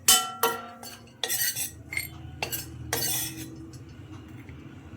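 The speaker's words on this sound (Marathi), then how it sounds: "त्याच कढईमध्ये थोडंसं मनुक्यांना घ्यायचं आहे, थोडंसं भाजून घ्यायचं आहे." Raisins being dry-roasted without ghee in a kadhai, with sharp scrapes and clinks of a metal spoon against the pan in irregular bursts over a faint background, close and fairly quiet.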